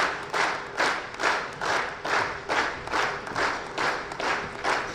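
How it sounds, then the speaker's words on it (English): Audience clapping to welcome a speaker to the stage at a formal program, heard as rhythmic, pulsing waves of applause, fairly close and steady for several seconds. "Please welcome him with a round of applause"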